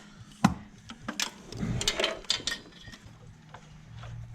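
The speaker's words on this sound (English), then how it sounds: "take this back bolt off this manifold" A hand tool works on the back bolt of a Toyota Soarer 1UZ-FE V8 exhaust manifold. Irregular metallic clicks, knocks and scraping come close by in short bursts, with quiet pauses between them.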